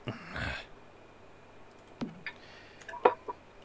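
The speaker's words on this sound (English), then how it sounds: "clicking the bloody menu buttons instead" Computer mouse clicking menu buttons while playing The Sims 4, a few sharp, isolated clicks spaced irregularly over a quiet background, one louder burst at the start.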